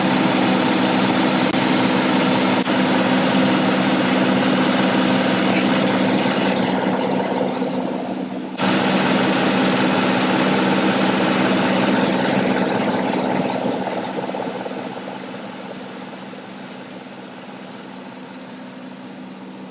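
Idling engine of an old Cadillac with the A/C compressor cycling on and off from low refrigerant, a steady close engine drone broken by brief clicks and shifts, then settling quieter toward the end.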